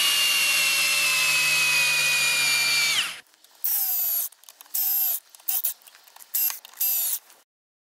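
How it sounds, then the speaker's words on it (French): A HOTO 12V brushless drill whirs steadily for about three seconds, then cuts out; several shorter high-pitched bursts follow as it bores into wood, each spinning up and stopping, close and loud with no talking. "On va faire des perçages en sachant que j'ai pas rechargé la batterie"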